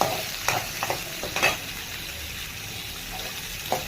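Onions sautéing in a pan for mint chutney, a low steady sizzle with a few brief stirring scrapes and clinks near the start and end, no voices.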